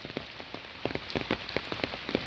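Rain patters steadily on outdoor surfaces during a heavy downpour, soft and fairly quiet, with a dense hiss broken by scattered, slightly louder individual drops.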